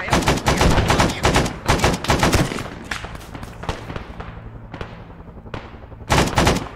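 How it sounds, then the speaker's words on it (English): Rapid shotgun blasts in the Vietnam-era Arma video game, a dense barrage of sharp shots followed by scattered single reports and a final close burst. "Dropping bodies with my shotgun"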